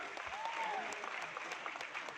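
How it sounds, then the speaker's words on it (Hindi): An audience at a recognition program claps steadily in a dense, even wash of applause, fairly distant and soft, with a faint voice beneath it. "जोरदार ताली होनी चाहिए।"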